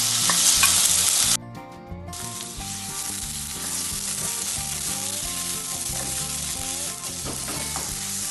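Chicken gizzards stir-frying in a pan for an Indonesian eggplant dish, a loud initial sizzle followed by steady frying crackle and repeated spatula scraping and clanking throughout.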